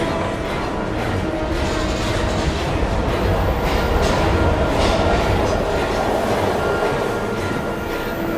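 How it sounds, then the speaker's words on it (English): Train in the video game Heavy Rain, a loud continuous rumble of rolling carriages with rattling wheels and rail noise that holds steady throughout, with no talking. "We've got to get on that train"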